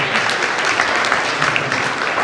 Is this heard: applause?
yes